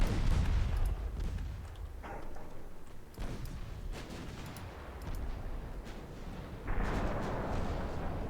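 Naval gunfire from the warship game Ultimate Admiral: Dreadnoughts pounds French light cruisers, a string of deep booming shell blasts and rumbling impacts at a moderate distance, several distinct hits spread across the clip with no talk.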